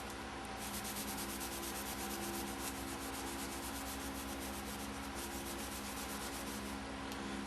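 A scuff pad scrubs a stud's thread clean during a Meyer E 47 snowplow rebuild, giving a continuous close, rapid rubbing rasp with a steady rhythmic grain throughout.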